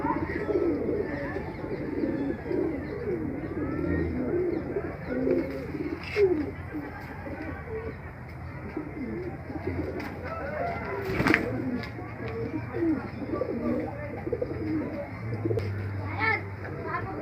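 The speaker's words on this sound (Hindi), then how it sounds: "कबूतर है जो। मोती कबूतर।" Moti pigeons coo in low, repeated murmurs through the whole stretch, near and steady, with other birds calling faintly around them and distant children's voices in the background.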